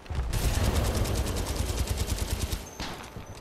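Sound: semi-automatic pistol gunfire in video game Titanfall 2

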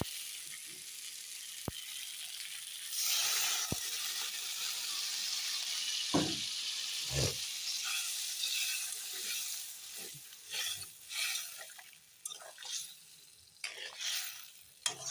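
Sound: water added to frying spice paste, sizzling

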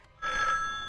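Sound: phone ringing after dialing a code, from the horror video game Granny

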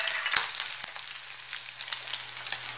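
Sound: noodles added to a frying pan, sizzling

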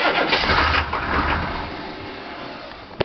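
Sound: engine cranking and starting

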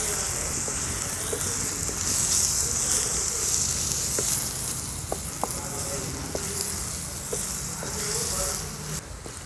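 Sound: dried shrimp (jawla) frying and mixed in masala on stove

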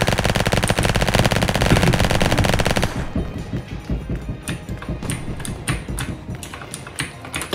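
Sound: minigun firing in a video game

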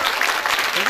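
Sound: audience applause

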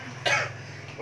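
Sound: coughing

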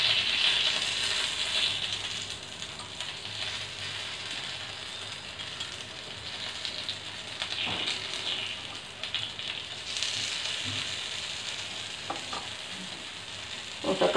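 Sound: moong dal ponganalu cooking in a pan

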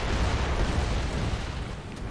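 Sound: mortar shells exploding in video game Gears of War 3

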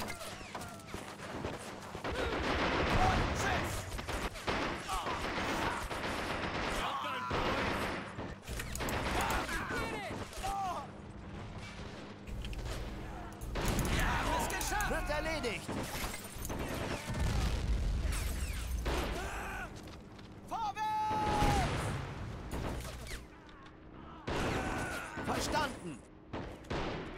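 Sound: gunfire from commando troops in a video game

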